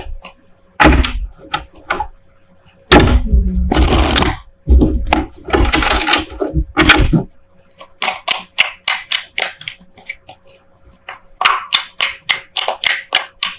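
Tarot cards being shuffled by hand: bursts of riffling and clattering, then a run of quick, crisp card taps and flicks, close by with no talking.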